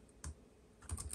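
Keys on a Lenovo ThinkPad TrackPoint Keyboard II clack in two short bursts, a single press followed by a quick cluster of taps, close and fairly quiet.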